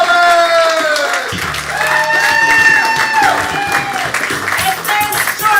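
An improv showcase audience breaks into lively applause and cheering, a dense wash of clapping mixed with crowd voices and a performer talking over the noise.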